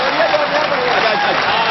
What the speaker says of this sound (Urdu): تالیوں سے استقبال کیجئے ڈاکٹر راحت اندوری کا، زوردار تالیوں سے